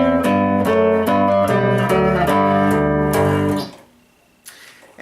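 Minuet in G played on a keyboard with both hands, a steady melody over a bass line of sustained notes for about four seconds before the sound cuts off into near silence.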